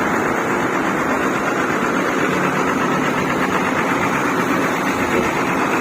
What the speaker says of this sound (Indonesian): Alphard masih belum bergerak ternyata, tapi mesinnya udah nyala dari sini terlihat